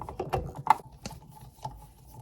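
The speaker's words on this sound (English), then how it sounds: "The 3 screws here go back." Screws are driven back into a Hisense chest freezer's cover panel, a few quiet ratcheting clicks and scrapes in an irregular rhythm, close by and alone.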